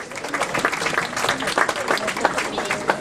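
A crowd applauds the best climber at the Boucle de l'Artois cycling race in Arras, a steady burst of dense, fairly close clapping lasting the whole moment, with a voice over it.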